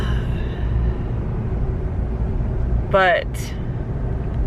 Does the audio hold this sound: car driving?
yes